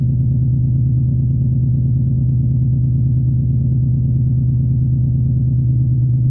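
A 2020 Ford Mustang engine idles on 93 octane with a loud, steady, close low rumble and an even pulsing throb, unchanging throughout.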